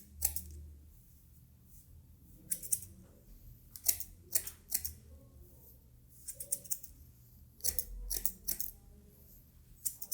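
Thinning scissors snip through hair at a barber's during a taper fade, crisp close metallic snips arriving in short irregular clusters separated by quiet pauses.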